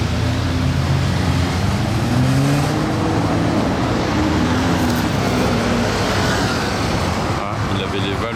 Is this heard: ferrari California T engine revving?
yes